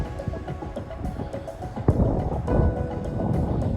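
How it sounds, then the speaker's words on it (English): Wind buffets a microphone outdoors during a walk by a pillar, giving low rumbling gusts and irregular thumps that swell and ease throughout. "I think we're going to get a load of wind on this pillar."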